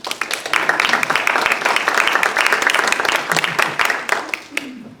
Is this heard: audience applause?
yes